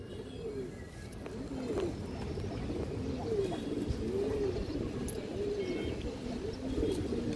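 Pigeons coo in a steady repeated rhythm, soft rising-and-falling calls recurring about once a second, moderately near, over a low rumbling background.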